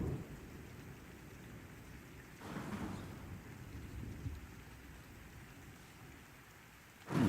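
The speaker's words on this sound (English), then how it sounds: "Just want to make sure this thunderstorm's not too loud for you guys." Steady thunderstorm rain pours throughout a fishing video game scene, with low rumbling swells of thunder around the middle and a louder burst at the very end, no voices.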